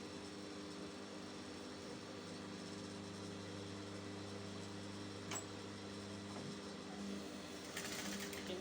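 A sewing machine hums in a long, even drone while joining the bodice pieces of a flared umbrella shift dress made from Ankara fabric, running steadily with a brief pause near the end.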